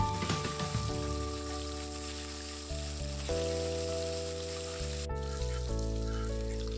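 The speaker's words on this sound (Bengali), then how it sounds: "এবার আরেকবার মাছ ভেজে নেব।" Parshe fish fry in hot oil with a steady sizzle and crackle, heard under a sustained tonal hum from a nearby device.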